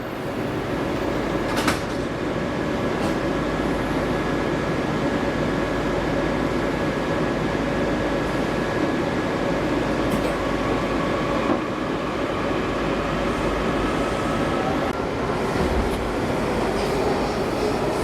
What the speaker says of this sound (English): On the Metro, here we go.